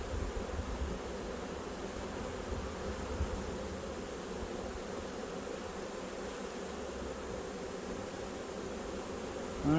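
Honey bees buzz in a steady, droning swarm during a late-February hive inspection, a moderately faint, continuous hum with no talking, ending in a sudden louder rustle close by.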